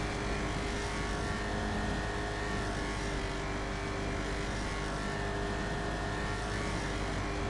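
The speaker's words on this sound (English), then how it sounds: "Yeah, this car really keeps going faster." A car in the video game GTA Online accelerates with a dense, continuous engine roar that holds steady and loud throughout, with no voices over it.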